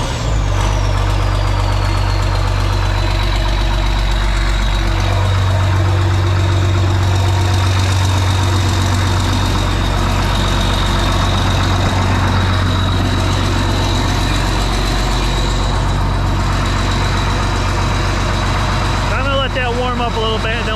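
A tractor engine with a quad range and 15-speed powershift runs at a loud, steady, rumbling idle close by, with a high whine settling early on and a voice speaking briefly near the end.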